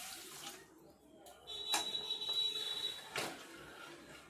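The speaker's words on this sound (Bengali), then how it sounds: "এখানে আমি চিনির রস বানাবো এর মধ্যে এক বাটি জল দিয়ে দিলাম" A bowl of water is poured over sugar in a pan to make sugar syrup for khasta goja. It is a soft, close splashing pour that lasts a couple of seconds.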